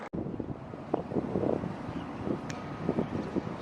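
Warm wind blows outdoors in Doha, buffeting the microphone with a steady, rumbling rush that stays fairly loud throughout the short stretch.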